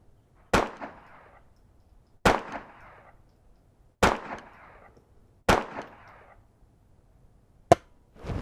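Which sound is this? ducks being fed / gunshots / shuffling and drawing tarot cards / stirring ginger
gunshots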